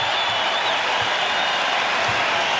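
A basketball arena crowd at a Creighton vs. Oklahoma men's college game roars in a loud, dense, steady wash of cheering and applause for the whole stretch.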